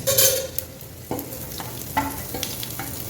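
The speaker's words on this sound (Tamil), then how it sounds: "இது கடுகு போட்டுக்கணும்." Oil sizzles and crackles in a pan as mustard seeds go in for coconut fish head curry, with a few sharp clinks of a spoon against metal.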